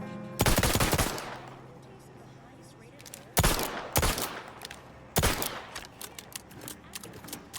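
Gun hip-fired in The Outer Worlds video game, three loud bursts of rapid shots separated by short pauses, each ringing out briefly, with a low steady hum beneath.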